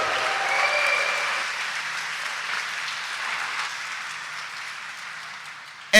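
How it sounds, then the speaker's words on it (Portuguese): Church congregation applauding during a Sunday Mass homily, a steady, fairly loud wash of clapping that holds for several seconds and thins slightly toward the end, with a faint low hum beneath. "Uma salva de palmas para ele, minha gente."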